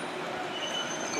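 A London Underground tube train rushes past in a dense, steady roar of wheels and motor, with thin high squeals threading through the noise, loud and continuous throughout.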